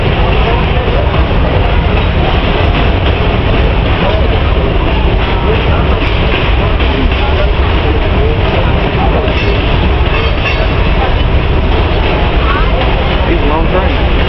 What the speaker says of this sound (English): He's a long train.